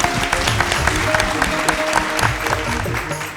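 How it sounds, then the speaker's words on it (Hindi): A studio audience on a televised Odia musical quiz show claps loudly and continuously, with faint tonal sounds running under the applause. "समस्त तरफ हरिओम गोटे करताली हो जाऊ।"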